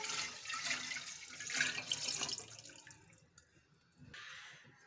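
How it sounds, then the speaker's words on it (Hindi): Water poured into a clean pot of cream (malai) before churning it into butter with an electric churner: a steady splashing pour for about three seconds that then thins to trickles, followed by a short final gush, all close by. "अब इसमें मैं पानी ऐड करूंगी"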